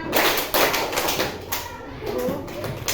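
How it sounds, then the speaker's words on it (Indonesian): Hands clap in a counting clap game, sharp claps recurring in a loose rhythm amid a voice and room reverberation, fairly close. "Tepuk 4, tepuk 4"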